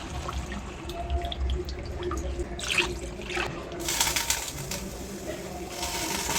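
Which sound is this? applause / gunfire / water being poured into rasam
water being poured into rasam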